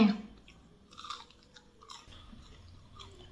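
Someone chews crispy fried patongko dough sticks, crunchy outside and soft inside, close to the microphone. A few soft crunches and bites sound quietly over a faint background.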